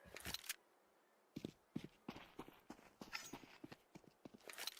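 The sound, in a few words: footsteps in a video game match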